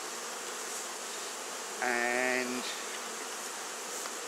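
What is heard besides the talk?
honeybee swarm buzzing while moved into top bar hive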